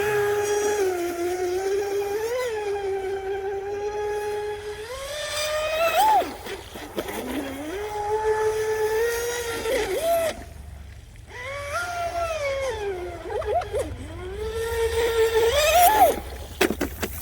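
A modified Pocket Racer RC boat with an extended stinger and Speedmaster bushing runs on water. Its motor gives a thin, high, buzzing whine that climbs and dips as it accelerates, turns and eases off.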